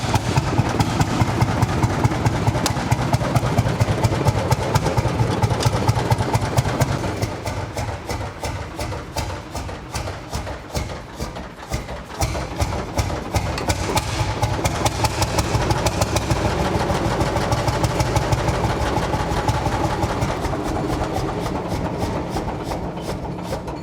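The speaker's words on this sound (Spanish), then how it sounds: "Ahí lo tenemos, el tractor en marcha." A century-old 12-ton steam tractor engine running, a loud, fast rhythmic chuffing beat that holds steady, dips briefly in the middle, then picks back up and continues strongly.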